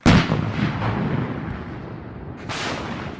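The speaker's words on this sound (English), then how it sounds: "did you see that explosion?" A loud, booming explosion erupts at once, then a heavy rumble rolls on and a second boom hits near the end, like artillery, with no talking over it.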